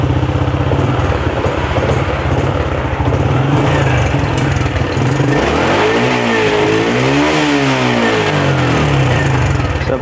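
Honda Supra X 125 FI motorcycle engine, fresh from an overhaul and smoking heavily with an unsteady idle, starts and runs loudly up close, its revs rising and falling in a clear swell midway.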